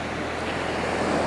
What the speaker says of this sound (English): A little bit of waves coming in on the beach, a little bit of ocean